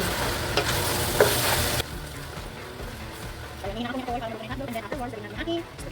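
Hotdogs go into a pan for a sweet spaghetti sauce and sizzle loudly at first, then settle into a softer frying hiss while a person talks over it.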